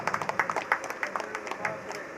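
Scattered clapping from an audience at a devotional bhajan gathering comes through as a brief burst of uneven hand claps, fairly faint and mixed with crowd murmur.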